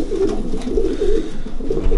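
Pigeons in a breeding loft give repeated low, throaty coos in a continuous murmuring chorus, close and fairly loud, with no voices present.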